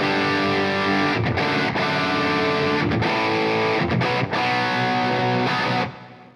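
A distorted electric guitar played through a Red Seven Amp Central Evo amp modeler with the power-amp emulation switched off, sounding loud and continuous as sustained chords ring out with brief gaps, then cut off cleanly at the end.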